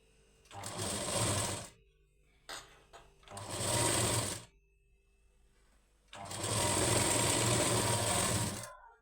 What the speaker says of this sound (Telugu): డబల్ స్టిచ్చింగ్ వేసుకోవాలి